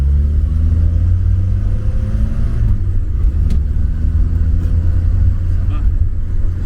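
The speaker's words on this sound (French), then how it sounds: "je vais lui mettre un peu la pédale au plancher" A 1966 Sunbeam Superminx engine revs up under load at full throttle, a steady low roar with rising pitch sweeps, loud and continuous throughout.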